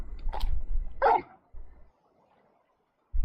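Large dog in Final Fantasy XVI giving two quick, close barks, followed by low rumbling game sounds and short pauses of quiet.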